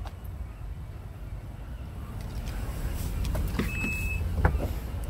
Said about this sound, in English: Automatic tail lift.